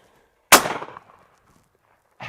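A single sharp, loud blast from a Pointer Acrius over-under shotgun fired outdoors in open prairie, decaying quickly into a short echo, with another onset cut off at the very end.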